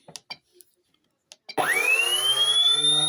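An electric motor driven by an ESC stays quiet through a few faint clicks and taps, then abruptly kicks in at low throttle and spins up with a steady, loud, rising whine that holds close and continuous.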